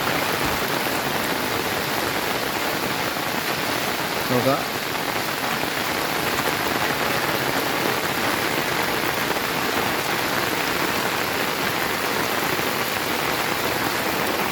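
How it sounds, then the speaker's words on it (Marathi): Intensifying monsoon rain near a flooding village river in Rajapur, Konkan, pours as a constant loud hiss and patter close by, with a brief spoken exchange cutting in once near the middle. "पावसाने वेग वाढवला आपला."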